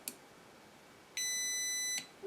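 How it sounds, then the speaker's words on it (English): A radio transmitter emits a single steady electronic beep of under a second, confirming the failsafe is set on a Dragon Link V3 UHF repeater setup, preceded by a tiny click and heard alone in a quiet room. "once it beeps once, that's your failsafe set"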